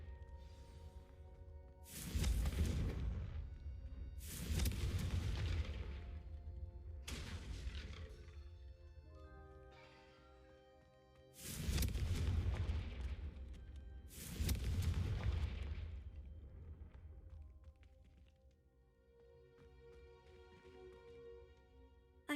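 Confringo fire-spell blasts in a wizarding video game, four booming explosions in two pairs, each a loud rumbling burst that decays slowly, with quieter magical shimmer between and no talk.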